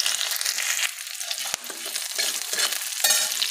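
Slit green chilies and crushed ginger fry in hot oil in a pan, a bright continuous sizzle broken by scraping strokes of a spoon stirring, close and loud with no talking.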